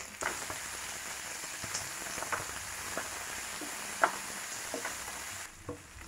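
Chopped onion and two small diced tomatoes sauté in a hot pan for a chutney, giving a steady close sizzle with occasional stirring clicks and scrapes and no voices.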